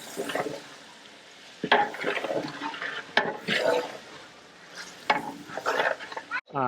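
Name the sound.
tomatoes and onions being fried in a large pot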